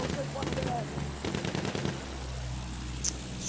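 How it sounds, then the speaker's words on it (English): Short bursts from a Burton LMR rifle in Battlefield 1, rattling through a busy battlefield mix of distant shots and rumble, with someone talking over it. "He's even burst firing the Burton."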